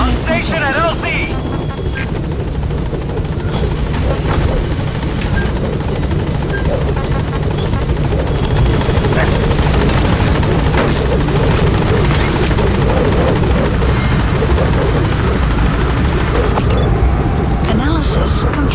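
The Pequod helicopter in the video game Metal Gear Solid V arrives with a loud, steady rotor thrum and whine that fills the scene throughout, while voices speak over it.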